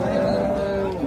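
HF dairy cow lowing at a busy cattle market in Karungalpalayam, Erode, a sustained low moo filling the whole moment over steady crowd noise.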